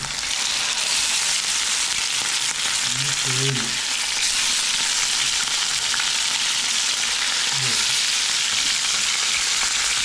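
Amur fish frying in a pan with curry leaves, a loud steady hiss of spitting oil that fills the whole stretch, with faint low thuds now and then underneath.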